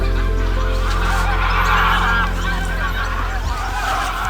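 Geese honking as they fly south outdoors, a run of overlapping nasal honks from a flock at moderate distance over a steady low background rumble.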